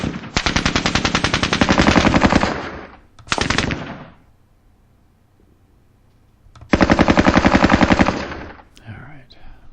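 Bren light machine gun firing in a war video game, two long rapid bursts and a short one between them, sharp, loud and close, with quiet gaps.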